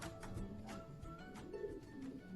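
Soft cooing of young racing pigeons in a pigeon loft after a flight, a few low murmuring calls overlapping with faint rustling and shuffling, quiet and close.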